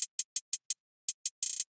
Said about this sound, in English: And now we can have a swell to make the hi-hat sound more interesting